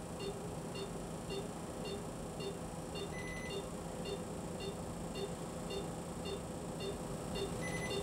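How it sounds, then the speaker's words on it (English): A Coolbreeze skin-cooling device emits short, high electronic beeps in a regular repeating pattern with a couple of longer tones, faint over a steady background hiss, no talk. "as you hear the beep, that's letting us know that we're reaching our"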